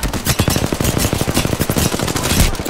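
Rapid automatic gunfire from a video game, loud and close, with dense bursts of shots repeating throughout and no talk.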